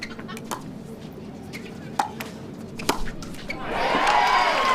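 A Utah crowd at a pickleball match breaks into rising cheers at the end, following several sharp paddle pops amid a low background murmur.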